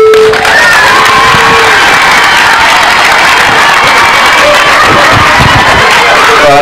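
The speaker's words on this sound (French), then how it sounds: "Voilà, applaudissez" Audience applause and crowd noise at a school slam poetry event at Lycée Alpha Molo Baldé in Kolda, a loud, dense, continuous wash of clapping mixed with voices and cheers throughout.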